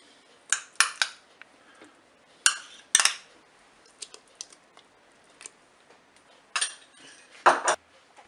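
A spoon clinks and scrapes against a Cookeo multicooker pot while tomato concentrate is added to blended lentils and tomatoes for soup. The taps come in short, irregular bursts, close by, with quiet gaps between them.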